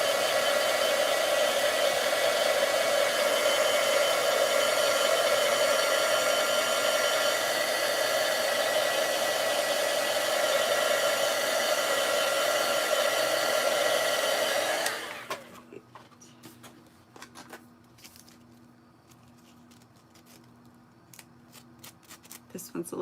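A hair dryer blows continuously and steadily for about fifteen seconds while drying laser-cut craft pieces, then cuts off, leaving quiet handling clicks and taps.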